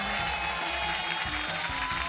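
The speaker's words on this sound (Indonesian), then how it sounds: "Coba tepuk tangannya mana?" A studio audience on an Indonesian live music TV show applauds steadily and densely, with crowd cheering mixed in over a low, pulsing music bed throughout.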